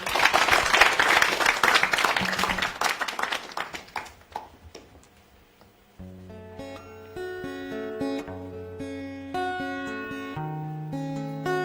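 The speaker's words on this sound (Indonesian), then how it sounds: "Kita berikan tepuk tangan untuk Teater Galangkangin." Audience applause for a school theater group's poetry-music performance on stage, dense clapping that fades out, followed by instrumental music starting up.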